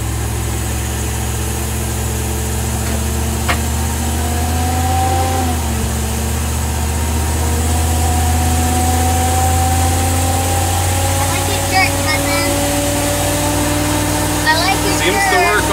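A 454 Chevy V8 in a 36-foot Monaco motorcoach, left abandoned for ten years, idles steadily and loudly close by, its low rumble shifting pitch slightly as revs rise and fall, with some voices underneath.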